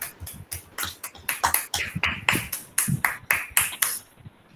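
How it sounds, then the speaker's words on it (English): Scattered clapping from young children in a junior kindergarten online class, a dozen or so uneven, close hand claps, some sounding like finger snaps, with no talking over them. "give her a big round of applause"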